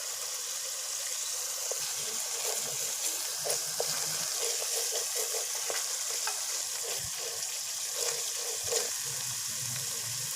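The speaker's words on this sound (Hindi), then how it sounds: "ऐसा ऐसा हम इसको भून रहे हैं मसाले को" Spice masala for Lahori street-style chikar cholay fries in hot oil with a steady bright sizzle, punctuated by scraping stirs of a spoon in the pan, close and continuous.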